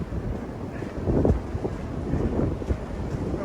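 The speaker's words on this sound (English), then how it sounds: "I hope you can hear me over this wind, but you can see how steady it is" Strong, steady wind on an open beach buffets the microphone with a continuous low roar and occasional gusty surges, loud and close throughout, with no voice heard.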